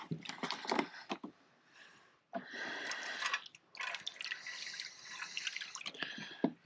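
Water pours and splashes into a pan to soak wooden kebab skewers while car camping, in bursts of running, trickling liquid with a short pause between pours.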